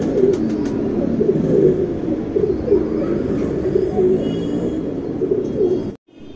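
Tournament pigeons coo in a low, steady murmur of overlapping calls, close and continuous, with no talking, before the sound cuts off abruptly near the end.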